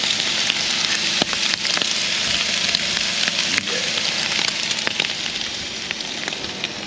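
Bacon frying for bacon and egg wraps at an outdoor camp cook, a loud, steady, crackling sizzle with scattered sharp pops and spits close up, no voices.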